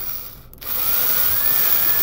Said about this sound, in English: basically what I did is I put a punch on my drill